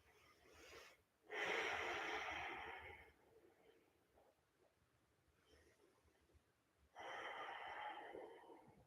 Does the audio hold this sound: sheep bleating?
no